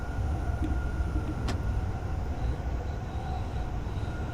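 A JR East Keihin-Tohoku E233-1000 commuter train runs past Minami Urawa Depot near Tokyo early in the run. A continuous low rumble fills the ride, with a faint high squeal and a brief clink at one point.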